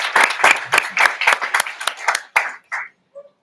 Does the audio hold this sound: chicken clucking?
no